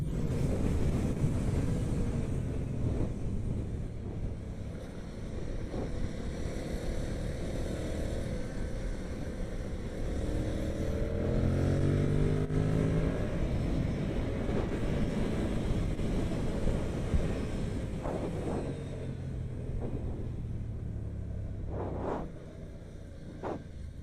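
A 2026 Yamaha MT-07 motorcycle rides hard on a race track, its engine a steady loud roar with rising and falling pitch sweeps as it accelerates and shifts, buffeted by heavy wind noise throughout.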